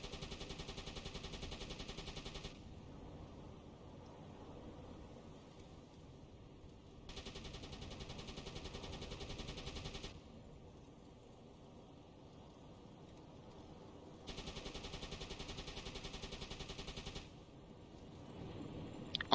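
Deck gun manned by the XO in a submarine video game, firing in long sustained bursts of rapid shots separated by short pauses, steady and fairly loud with no talk.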